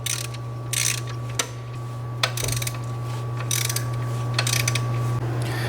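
A ratchet clicks in quick bursts while loosening the alternator on a 3.4L-swapped Toyota pickup, rapid pawl clatter in several spurts with brief pauses and metallic knocks, close up over a steady hum.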